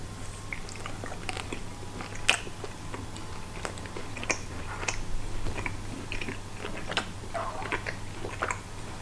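Close, crisp bites and chewing on a piece of cured Spanish chorizo, scattered sharp clicks and moist mouth sounds over a steady low hum, with no talking.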